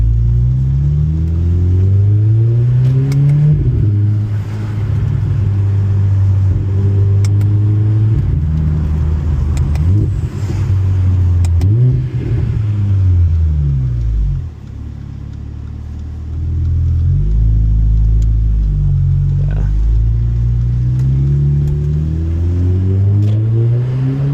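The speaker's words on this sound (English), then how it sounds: "the downshifts are just so satisfying" A Mercedes-AMG GLA45 driven in manual mode revs loudly and steadily, its engine note climbing and dropping repeatedly as it downshifts, a continuous close rumble from inside the car.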